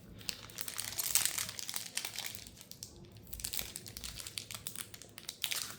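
A foil wrapper on an Edge of Eternities collector booster pack is torn and crinkled open, close and fairly quiet, in bursts of sharp crackling with no speech.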